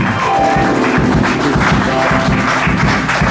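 A church congregation applauding loudly and continuously during a prayer service, dense close clapping with a steady rhythmic pulse and no talking over it.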